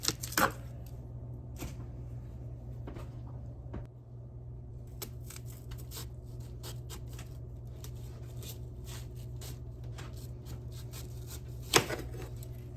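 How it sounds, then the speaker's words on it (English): A knife slicing the rind off a watermelon, heard as scattered crisp cuts and scrapes with a couple of sharper cracks near the start and end, close up over a steady low background hum. "we're going to cut this off and kind of go along with the rind"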